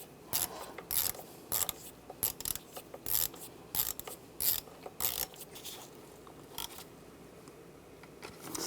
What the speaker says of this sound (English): then I'll tighten these ones down first, and then we'll snug up that bottom one.